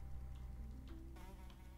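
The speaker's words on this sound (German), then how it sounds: "Die Fliege ist wieder weg." A housefly buzzes steadily in the video game Journey of a Roach, a faint continuous drone with a slight shift partway through under quiet game ambience, no talking.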